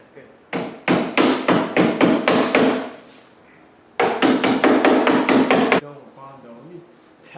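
Hammer strikes tap a car body dent being pulled with a stud welder, two fast rhythmic runs of about eight sharp metallic blows each, close and loud, with a voice briefly speaking at the end.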